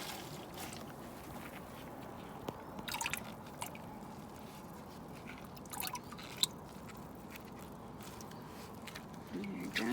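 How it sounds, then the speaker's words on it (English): Water drips and squishes softly as a sponge presses wet handmade paper pulp made from shredded junk mail and fabric pieces, faint and close with a few light, scattered taps. "use Mr. Sponge to get a little bit more water out"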